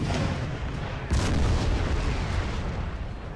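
Gunfire and artillery from a Napoleon Total War battle, a dense continuous rumble of distant musket volleys and cannon booms with a heavier burst about a second in, no voices.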